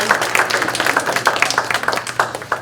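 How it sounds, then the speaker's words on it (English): A crowd at a police breakfast event applauds the K9 police dog Lukas, a short, brisk burst of many hands clapping together in a room, fairly loud and continuous. "That's Lucas's first round of applause."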